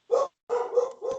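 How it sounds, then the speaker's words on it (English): A nearby dog gives three quick barks, one short yap and then two joined barks, loud and clear with no talk over them. "is that your dog?"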